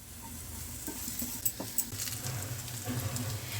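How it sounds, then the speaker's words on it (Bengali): Quiet oil sizzling in a pan as eggplant fries, with occasional soft scrapes and knocks of stirring. "মাঝে মাঝে নেড়ে দিই যতক্ষণ বেগুনটা আমাদের ভাজা না হয়"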